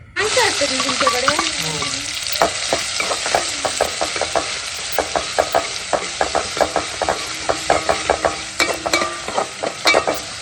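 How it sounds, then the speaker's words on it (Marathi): Onions fry in hot oil with a steady, loud sizzle, punctuated by a regular patter of spoon scrapes and clicks as they are stirred. "पहिली मस्त कांद्याची फोडणी देऊया"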